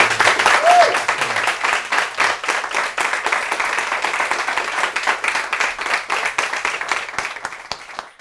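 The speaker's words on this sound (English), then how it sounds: "Can we get another round of applause, please?" An audience claps in sustained, loud applause that gradually thins out toward the end, with a few voices under the clapping.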